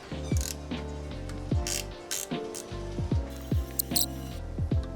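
Ratchet loosening rusty 10 mm bolts on a KA24DE engine, quick bursts of close, sharp clicking pawl strokes repeating in short runs over five seconds.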